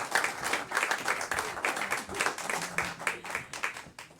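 Audience applauding at the close of a live performance at the Kelly Center, steady dense clapping from a crowd lasting throughout, moderately loud with a faint murmur beneath.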